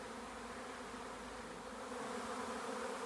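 A honeybee swarm buzzes in a dense, continuous drone, steady and fairly close, filling the air without pause or talk.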